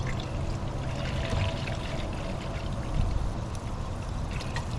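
Coolant pours steadily out of a Nissan Sentra's MR20DE radiator during an antifreeze change, a continuous gurgling stream from close by with faint bubbling, no talk.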